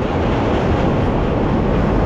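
A metro train rumbles steadily, a dense continuous low roar of wheels and carriage noise with no breaks, loud and close throughout.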